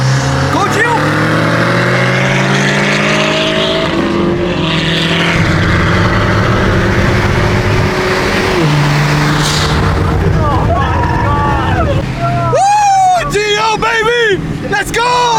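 Friends' cars race from a start, engines roaring loud and close as they rev and accelerate, with excited voices shouting over the engine noise near the end.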